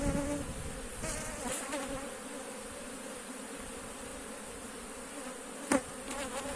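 Honeybees buzz steadily close by during a beehive inspection, a dense continuous hum with a brief louder knock or rustle near the end.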